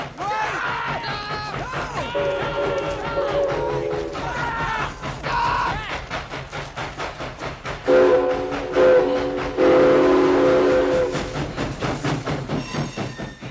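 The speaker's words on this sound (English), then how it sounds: "a train whistle suddenly sounded in the distance." A train whistle sounds at a distance in several sustained tonal blasts, set against a rumbling railway backdrop with clatter and thumps.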